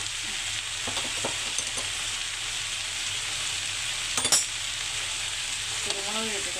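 Fried rice sizzles steadily in a hot pan as pepper powder is stirred in, with a few sharp scrapes of the spoon against the pan and a louder clatter midway, no talking.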